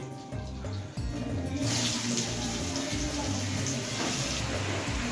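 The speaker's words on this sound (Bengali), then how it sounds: "এবার দিয়ে দেবো হচ্ছে লম্বা লম্বা করে কেটে রাখা লাউগুলো।" Sliced bottle gourd drops into hot oil spiced with bay leaf, dried red chilli and cumin, setting off a loud, steady sizzle that swells after the first second and stays strong throughout, with no talk over it.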